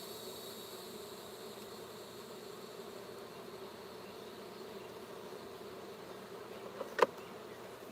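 Honey bees foraging at a backyard hive make a soft continuous buzzing hum, faint and steady, with a brief sharp knock near the end.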